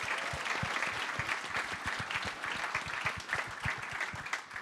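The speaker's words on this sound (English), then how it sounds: "can we give them a round of applause?" Continuous audience applause at the Australian Olympic Change-Maker National Forum honouring Olympians, a full room of steady clapping with sharp individual claps scattered throughout, alone without speech.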